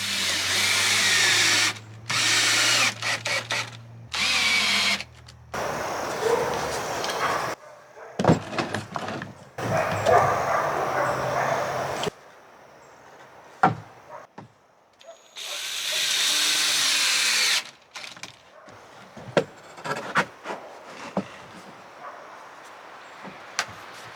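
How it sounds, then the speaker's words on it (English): A power drill drives deck screws into 2x4 lumber in several loud whirring bursts of a few seconds each, separated by pauses filled with faint knocks and handling noises. "We're just screwing these down with some deck screws."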